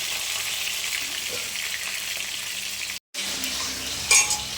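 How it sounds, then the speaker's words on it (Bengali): Fish sizzling steadily as it fries hard in hot oil in a home kitchen, a continuous close hiss broken by one brief silent gap, with no talking. "চলো মাছটা কড়া করে ভেজে নিই"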